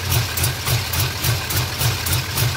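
A cammed Pontiac GTO with a 6.0L LS2 engine and long tube headers idles close by, its choppy lope pulsing at a steady, uneven rhythm.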